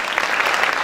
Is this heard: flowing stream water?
no